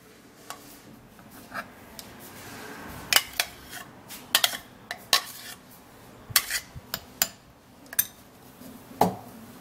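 Blended carrot and banana mixture transferred into a bowl, heard as scattered clinks and taps of a utensil against the bowl, irregular and close, with quiet pauses between.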